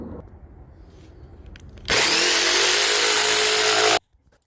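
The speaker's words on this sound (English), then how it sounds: "Now we're going to cut against the line." A power saw bites into steel roll bar tubing along a marked line, a loud, harsh, high-pitched cutting whine lasting about two seconds that cuts off abruptly, after quieter handling noises at the start.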